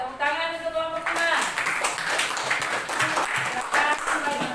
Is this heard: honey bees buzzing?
no